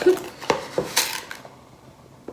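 A metal spoon clatters and scrapes against a mixing bowl during baking, several sharp knocks spaced about half a second apart, then a brief scrape and fading quiet.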